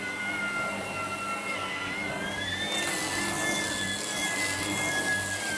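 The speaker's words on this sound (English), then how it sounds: "let's see what this vacuum cleaner picks up" A Shark auto detective vacuum cleaner runs steadily over a home floor, a loud continuous motor roar with a high whining tone that shifts slightly in pitch and grows a bit brighter partway through, with no talking.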